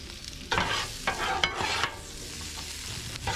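Potatoes dropped onto onions on a Blackstone griddle set to medium high crackle into a steady close sizzle, with a few louder bursts of scraping and stirring early on before settling into an even frying hiss.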